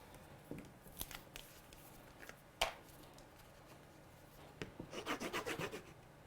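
Coloured paper is pressed and rubbed onto a scored greeting card with soft scraping and rubbing strokes, a sharp tap in the middle, then a rapid run of rubbing near the end, close and quiet.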